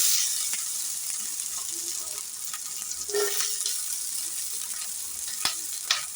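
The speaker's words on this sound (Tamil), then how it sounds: "கடுகு போட்டுக்கலாம் வெங்காயம் போட்டுக்கலாம்" Mustard seeds and onions fry in hot oil, a continuous close hiss with a few soft stirring scrapes and two sharp clicks near the end.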